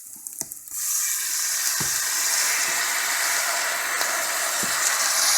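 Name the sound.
sauerkraut being added to a hot pan, sizzling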